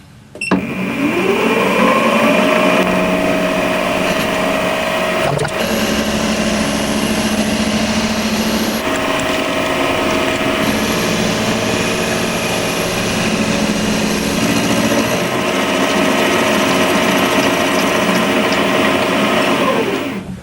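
A machine tool hums and whirs steadily while cutting the sides of a metal stanchion part for a compact power hacksaw, a loud continuous drone with a rising spin-up at the start, a brief clunk midway and a wind-down at the end.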